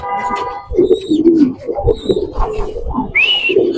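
Pigeons for sale at a home loft in Mirpur, Dhaka, coo in low rolling bursts close by, with higher whistling bird calls mixed in and background voices talking.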